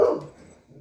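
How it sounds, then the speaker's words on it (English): A single short bark from a house dog, fairly close and moderately loud, quickly fading into a quiet room. "That's my dog."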